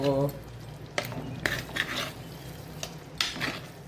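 An egg pepper fry is turned over in a pan, heard as soft sizzling under intermittent spatula clinks and scrapes against the metal, with a few sharper knocks spread across the clip.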